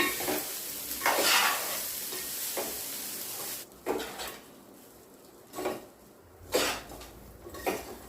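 Raw mango pulihora being mixed through in a pan, with repeated close spoon-and-rice scraping strokes over a low sizzle, several distinct stirs toward the end.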